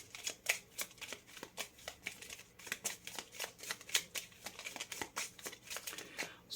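Lenormand oracle cards are shuffled by hand in a quiet room, a rapid run of soft riffling flicks and slaps repeating close up and alone.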